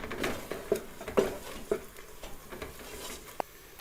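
Whole black cardamom, a cinnamon stick and black peppercorns stirred into onions frying in a pan, with a few distinct scraping clinks of the spoon against the pan over a soft, steady sizzle.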